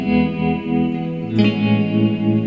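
Sustained, heavily processed guitar tones through a Sonicake Warped Dimension modulation pedal set aggressively, with swelling, washed-out modulation, notes seeming to bloom backward; a sharp new attack midway restarts the lush, reverse-like swell.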